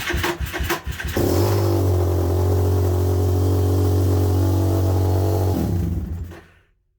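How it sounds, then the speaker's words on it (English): A WPB 190cc small engine fitted with a Nibbi 28mm carburetor catches after a few cranking coughs, then runs loud and steady at high idle for several seconds before cutting off abruptly. "Fuel on, bit of a prime, turn ignition, open choke, and fire."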